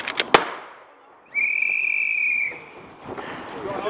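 An airsoft grenade goes off outdoors during a game as a double bang: two quick sharp cracks, then a loud whistling tone that lasts about a second, with faint field noise afterwards.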